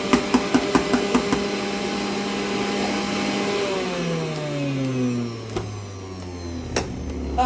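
A juicer machine's motor whirs loudly with a few rhythmic knocks at first, then its pitch slides steadily downward as it spins down, ending with a couple of sharp clicks.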